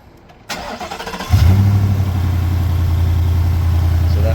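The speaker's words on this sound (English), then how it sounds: "let's do a cranking test" A Ford F150 with a Motorcraft battery cranking briefly, then catching and settling into a steady, loud low idle close by.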